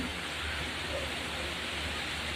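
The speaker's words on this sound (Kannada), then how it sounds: "ಸಿಕ್ಕಾಪಟ್ಟೆ ಮಳೆ ಬರ್ತಾಯಿದೆ" Steady, dense hiss of heavy rain pours without a break, a constant wash of noise filling the whole moment.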